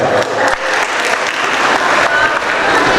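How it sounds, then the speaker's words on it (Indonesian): An audience at a university national seminar claps steadily and loudly for a few seconds, a dense wash of applause with no gaps. "Tepuk tangan dulu semuanya."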